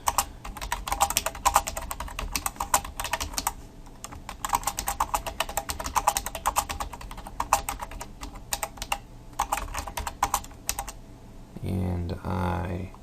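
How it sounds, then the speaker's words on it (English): Quick, steady keystrokes on a computer keyboard tap out a blog comment in close bursts with brief pauses, then a voice speaks at the end. "So I'm just going to type in anything."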